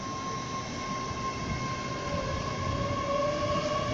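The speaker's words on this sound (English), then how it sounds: "this two units ten carriage train to Cardiff Central" A Class 800 passenger train, two units coupled as ten carriages, runs at Swindon bound for Cardiff Central. Its rumble and drone are loud, near and continuous, with a steady whine over the noise and no voices.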